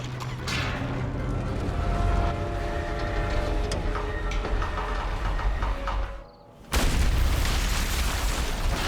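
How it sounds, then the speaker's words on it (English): A big dynamite blast goes off in an animated cartoon pilot. A rumbling, noisy stretch drops to a brief near-silence, then a sudden loud broadband boom hits and keeps roaring. "that much dynamite detonating should have created like a quarter-mile shockwave"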